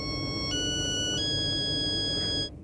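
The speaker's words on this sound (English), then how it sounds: "This new phone also comes with a music composer, so you can create your own unique cell phone ring." A custom ringtone composed on a cell phone's built-in music composer plays a steady electronic melody of sustained tones that step up in pitch twice, loud and close, then cuts off near the end.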